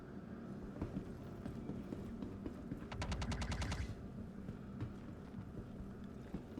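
A rapid burst of automatic gunfire in a video game, about a second of evenly spaced shots heard amid steady background game noise.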